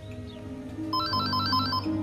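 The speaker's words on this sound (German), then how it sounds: "Telefon!" A telephone rings with a bright electronic ringtone, a rapid repeating warble that starts partway through over a low background hum, close and clear, with no talk over it.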